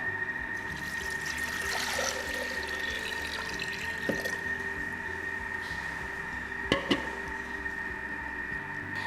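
About 1.5 liters of water runs steadily into a Thermomix food processor, a continuous watery rush with a faint hum beneath and a couple of brief clunks near the end.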